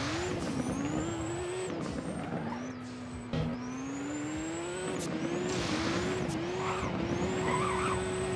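An SSC Tuatara Aggressor engine in the Driving Empire racing game revs repeatedly, its tone climbing and dropping in steady waves, with brief tire squeals and shifts between pulls, loud and alone.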